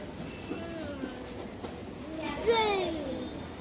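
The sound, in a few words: train ride to Mayapur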